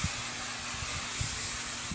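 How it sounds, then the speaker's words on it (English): Hairspray hisses from a can onto hair in one continuous close spray lasting about two seconds, steady and bright with no talking. "And then I'm just going to spray it again."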